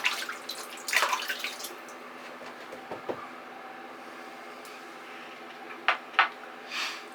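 Tap water runs steadily while soap is rinsed out of a shaving brush, with a few louder splashing bursts near the start and end.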